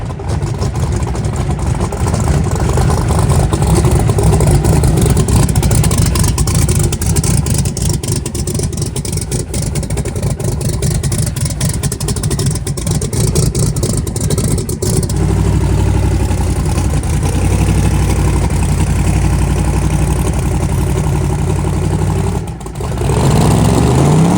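A 5,000hp Camaro drag car's big engine revs loud and close with rough, pulsing bursts, then settles into a steady, lumpy idle for the rest of the stretch.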